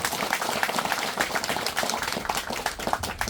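A small crowd applauds at a memorial ceremony at an observatory in Yeoncheon, South Korea, giving a few seconds of soft, fairly distant, continuous clapping.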